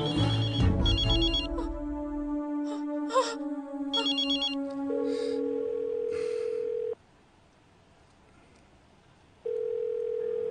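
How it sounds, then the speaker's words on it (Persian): A telephone rings with bursts of bright, buzzing tones and repeated ring patterns, followed by a sustained steady tone that stops briefly and then resumes. The sound is moderately near and clear. "صدای تلفن؟ چه؟"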